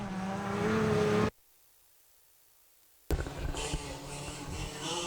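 Modified sedan race cars at a speedway roar loudly, cut to near silence, then burst back as the heat race gets underway, engines revving hard together.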